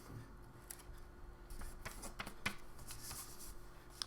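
Paper card stock being folded by hand for a Cricut pop-up card, soft crisp creasing and rustling sounds with a few sharper snaps, quiet and close.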